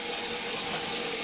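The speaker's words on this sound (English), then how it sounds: "you want to get some water, cold water" Cold water runs steadily from a kitchen tap, a loud, close, continuous hiss and splash with no pauses and no talk.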